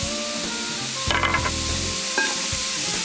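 Vegetables hitting a hot pan with garlic and a tablespoon of cooking wine: a loud, steady sizzle with sudden surges of crackling and spatula stirring and scraping, close and alone with no talk.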